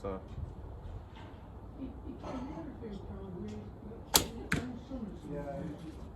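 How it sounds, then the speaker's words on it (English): Two sharp wooden clacks of arrows knocking against each other ring out near a bow during target shooting, with someone talking over a quiet background. "Sorry, arrow touching arrow."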